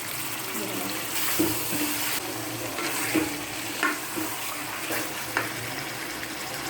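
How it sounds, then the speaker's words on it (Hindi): Boiled beef and potatoes for a potato beef curry frying in a pan, a steady sizzle with a few stirring knocks and scrapes, close and fairly loud, with no talking. "अब इसमें बॉईल किया हुआ बीफ डालूंगी और 2 बड़े साइज़ के मैंने आलू काटे थे वो डालूंगी"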